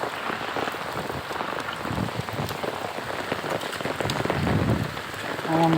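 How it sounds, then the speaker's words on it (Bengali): Heavy rain pours steadily on a flooded street in Dhaka, a dense, continuous hiss of drops striking the ground and water nearby. "এমন বৃষ্টি হয়েছে যে বাসা বাড়ি তলায় গেছে,"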